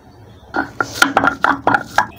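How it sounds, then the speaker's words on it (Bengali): Onion ground into paste on a stone grinding slab while preparing a stuffed pointed gourd dolma with chicken: a close, steady run of about eight rhythmic scraping strokes, each a short gritty rasp. "কিছুটা পেঁয়াজ বেটে নিচ্ছি।"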